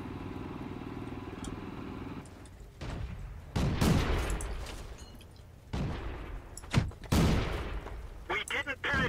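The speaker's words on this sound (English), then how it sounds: "I know that I'm getting shot at." Tank cannon fire and battle noise in World of Tanks, with several loud broadband blasts and crackling impacts over a steady engine rumble, arriving in bursts across the stretch.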